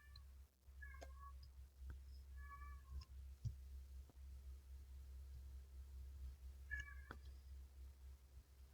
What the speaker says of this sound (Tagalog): pasensya na sa ingay ng pusa.